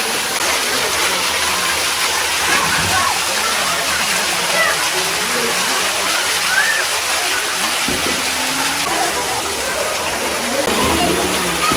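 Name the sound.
water pouring from Nandi statue's mouth at temple pond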